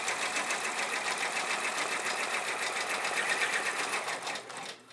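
An embroidery machine stitches a light tack-down for a Braves flip-flop appliqué, a dense, steady rapid buzz that holds close and loud, then fades and stops at the end.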